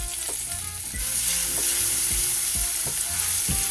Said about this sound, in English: So now I'm just gonna add in my shallot and cook that.